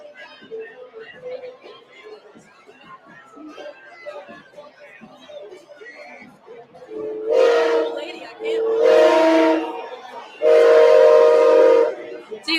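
The Smoky Mary train float in a Mardi Gras parade, Orpheus, sounds three long, loud horn blasts one after another. They rise over a murmuring crowd and distant music after a quieter stretch.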